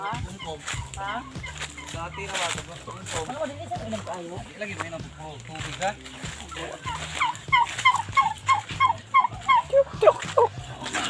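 Repeated turkey gobbles ring out, growing louder and more frequent toward the end, over steady background chatter and farmyard noise.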